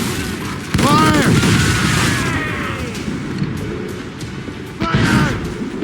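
Ship cannons in Assassin's Creed Rogue fire in heavy booming volleys, two big bursts several seconds apart with rumbling and creaking in between, under shouted commands.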